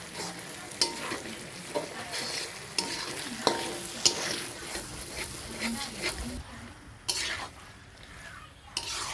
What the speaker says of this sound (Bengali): মাংস দিয়ে দিলাম ভালো করে নাড়ছি আমি